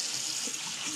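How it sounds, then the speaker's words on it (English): Tap water runs steadily over a black drum fish fillet being rinsed in a kitchen sink, a brief continuous splashing hiss with no one speaking. "I'm gonna put that in there, rinse it off a little bit."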